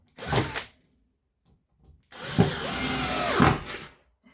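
Nine-year-old cordless screwdriver driving screws in a test: a short whirring burst, a pause, then a longer burst of whirring motor that bogs slightly as the screw seats, close and clear.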